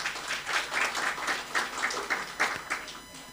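A crowd claps at a chaplains' graduation ceremony in Kenya, with fairly loud, continuous applause from many hands that swells and eases slightly over a few seconds.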